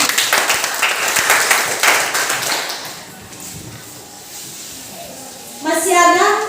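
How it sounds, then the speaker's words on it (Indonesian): Students in a Christian religious education classroom clap together in a dense burst that tapers off, followed by a quieter stretch and a teacher speaking. "Tepuk tangan untuk teman-teman."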